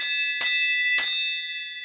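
A bell rung twice, each bright metallic strike ringing on with a long, slowly fading tone; no talking.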